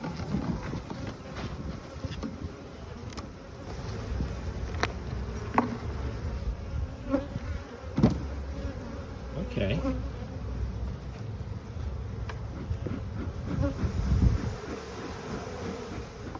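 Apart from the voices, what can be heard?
honey bees buzzing around hive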